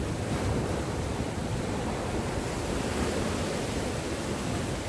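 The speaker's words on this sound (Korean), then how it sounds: "지금 파도가 일습니다." Rough sea surf crashing along a fishing shore, a dense, constant broadband roar of waves with some wind buffeting the microphone, loud and close with no voices.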